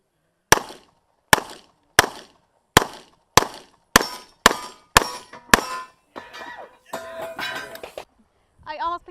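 A CZ Shadow 2 pistol fires a rapid string of sharp shots at an IPSC match, with bullets clanging off steel popper targets in a quick, uneven rhythm. People talk afterward.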